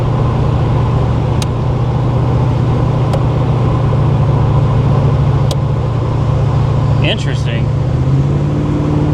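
A Monte Carlo SS fitted with a new heavy-duty transmission drums along with a steady low engine rumble as it accelerates on the gas, heard from inside the car; someone speaks briefly over it.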